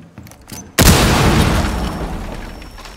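A sharp, loud gunshot blast in Rainbow Six Siege on the Chalet map cracks suddenly after a quiet lead-in, then rings out in a long decaying echo over the next two seconds.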